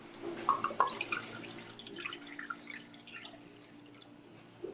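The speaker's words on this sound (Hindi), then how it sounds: "1 कप पानी इसी तरह।" Water poured into a pot for homemade jelly, a light splashing trickle with a few drips, close and quiet, fading to a soft steady patter.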